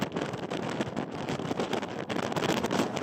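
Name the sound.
strong wind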